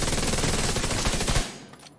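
Rapid, sustained automatic fire from an assault rifle in a looter-shooter PvP build, loud and continuous bursts for over a second before cutting off and trailing into a brief echoing tail.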